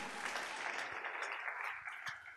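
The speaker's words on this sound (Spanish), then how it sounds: "Dele palmas a Dios en esta noche" A church congregation claps together during an evening Spanish-language worship service, a dense steady patter of many hands filling the room throughout, with a few sharper claps standing out near the end.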